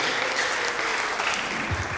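A church congregation applauding, with dense, sustained clapping from many hands filling the whole moment, loud and close, with no gaps.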